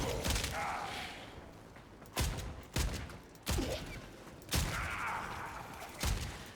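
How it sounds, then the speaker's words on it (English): A shotgun fires in the Warframe video game: five loud, booming blasts at uneven intervals, each fading into a rumbling tail over a dense background of game noise. "We're gonna hit them with the shotgun"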